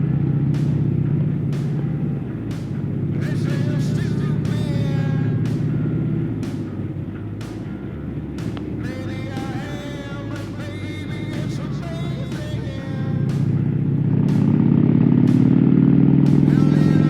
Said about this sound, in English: There's so much traffic to deal with here.